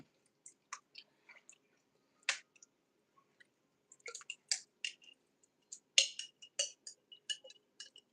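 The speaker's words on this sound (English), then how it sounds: "cut a lemon up" A knife cuts up a lemon in a home kitchen, making a series of faint, close, sparse clicks and wet squishing taps against the board, with no talking.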